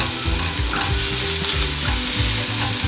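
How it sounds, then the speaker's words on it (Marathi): Onion sautéing in a pan for an egg tawa masala gives a loud, close, continuous sizzle, with rhythmic low scraping and stirring strokes running underneath. "थोडा कांदा परतून घ्या"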